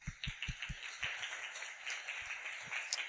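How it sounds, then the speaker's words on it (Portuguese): Applause from a church gathering rises faintly in the room, with a few distinct low thumping claps at the start, then a soft wash of scattered clapping from a distant crowd. "Quero aplaudi-los."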